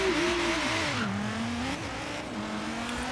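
A Pontiac Trans Am engine drones steadily in the racing game Forza Horizon 3, its pitch dipping and rising slightly as the car drives along, loud and close with no talk.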